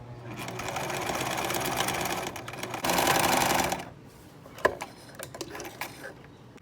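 A sewing machine runs steadily as it stitches a fabric face mask, a close, continuous mechanical whir lasting several seconds and then stopping, followed by a few faint clicks and handling sounds.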